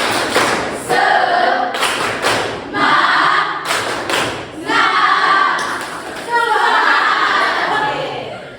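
A classroom of pupils performs the rhythmic 'tepuk semangat' clap, loud close bursts of patterned claps and thumps in several phrases with short pauses between, with young voices joining in.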